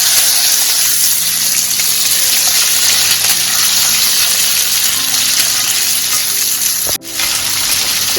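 Dried red chillies and curry leaves fry in hot oil for a Pallipalayam chicken dish, giving a steady close sizzle with a brief gushing dip near the end, and no one speaks over it.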